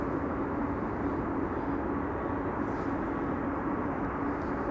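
Steady, distant jet engine rumble of an aircraft taxiing at Amsterdam Schiphol Airport. A faint, continuous whine and roar hold evenly throughout with no voices.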